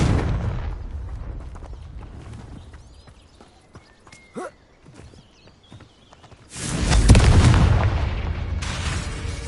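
Confringo fire spell explosion in the video game Hogwarts Legacy: a loud, roaring blast that swells up and lingers for a couple of seconds, following a quieter stretch of scattered hoof-like clops and thuds.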